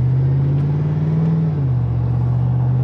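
A 2007 truck engine drones steadily from inside the cab while driving, a loud low hum whose pitch dips slightly partway through, with no talking.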